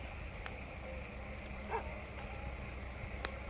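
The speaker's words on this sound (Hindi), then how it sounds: "कुत्तों की आवाज़ आ रही भाई" Dogs bark outside near an old locked room and gate, giving a few faint, distant barks spread over a steady background hiss.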